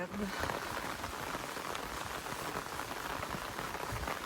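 Rain falling outdoors near the source of the Seine in France, a faint, steady patter and hiss of drops that continues evenly with no talk.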